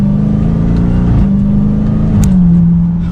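A Dodge Charger SRT Hellcat in manual mode accelerating hard from inside, its loud engine drone rising and dropping briefly at two quick gear shifts.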